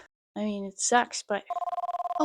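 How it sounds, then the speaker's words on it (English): An old telephone in the 1998 X-Files game rings as a rapid pulsing electronic trill, loud and close, right after a few spoken words and then fading out. "hold on, sorry. That's my phone."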